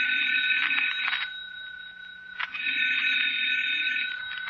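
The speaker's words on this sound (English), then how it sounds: "And the telephone rang." An old-style telephone bell rings in two long bursts with a short pause between, sharp and fairly close, in a quiet radio drama scene with no talk.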